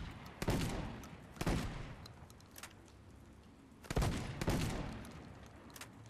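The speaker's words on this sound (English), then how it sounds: "This is shotgun A. So you have six shots. It's like an auto shotgun" Shotgun A, a six-shot automatic shotgun in the video game Midnight Society Deadrop, fires in quick pairs of sharp, booming blasts, each with a short ringing tail, separated by brief quiet gaps.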